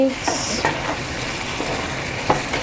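Carrots and green beans being stirred in a pot, giving a steady sizzle with a few scraping stirs and light clinks throughout, close by and fairly quiet.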